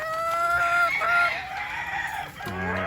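Gamefarm chickens and a rooster sound close by in a Filipino yard, with a crow and tonal calls in the first half, then lower clucking and another call at the end.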